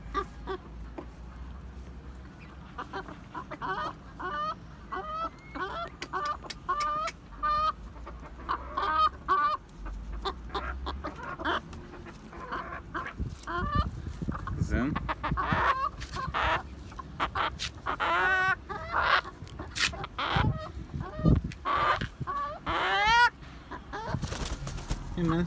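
Dwarf Cochin chickens in a field cluck and squawk in busy overlapping bursts, close and fairly loud, with people talking among them.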